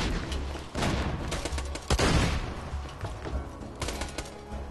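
Bursts of rapid gunfire from a Borderlands 2 video game, a mini-gun-style launcher unleashing dense, loud volleys with a brief gap between bursts and a heavy boom near the middle, no talking.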